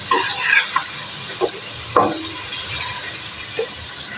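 Tomatoes go into pan-frying liver for bhoni kaleji, bringing steady sizzling with several sharp stirring scrapes and clinks at irregular moments, close and fairly loud.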